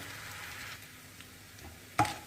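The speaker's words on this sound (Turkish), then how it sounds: "Biraz kavurduktan sonra az bir şey kavurayım." Minced meat frying in a pan for a okra stew, a steady low sizzle with light stirring and a brief louder scrape or clatter near the end.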